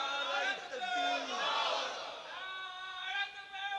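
A crowd at a Bengali religious gathering shouts the takbir chant in unison, a sustained roar of many voices with a leading caller's voice rising above it, loud and reverberant.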